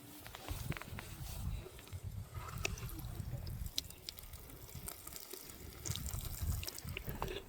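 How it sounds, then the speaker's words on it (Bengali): Water carried from a tank is poured onto garden plants, giving a soft splashing and trickling with faint shuffling and handling noises, quiet and close, with no talk. "এই যে আমরা গাছে পানি দিতেছি, পরের জায়গা থেকে নিয়ে আসছি, পানি নিয়ে আসছি, পানির এই যে ট্যাঙ্কিটা নিয়ে আসছি।"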